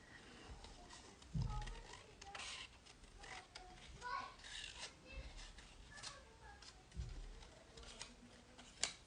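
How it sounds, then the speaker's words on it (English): Scissors snip through paper while cutting out collage shapes for a botanical drawing class, giving repeated soft close snips and rustles at an uneven pace, with a few heavier handling thumps along the way. "I'm just going to cut out those shapes"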